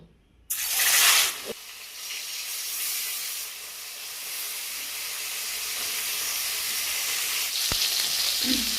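Marinated rohu fish slid into hot oil in a pan, a sudden loud burst of sizzling that settles into a steady, close frying hiss with a faint clink near the end, no talking.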